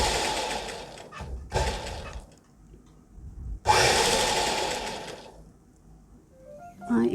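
A sewing machine stitches down a folded edge of a cloth carry bag, whirring in loud bursts separated by pauses, with a short clack near the end.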